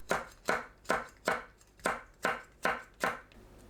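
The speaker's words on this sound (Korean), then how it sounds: "파, 청양고추를 둥글게 썰어줍니다." Knife slicing green onion and cheongyang chili peppers into rounds on a cutting board, eight crisp evenly spaced chops close up, with no talking.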